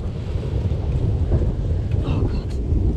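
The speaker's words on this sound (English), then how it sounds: "we got a storm coming. Oh, it's here. Thunder's here" Thunder from an approaching storm rumbles low and continuous in the open outdoors, with wind buffeting the microphone and possible rain mixed in.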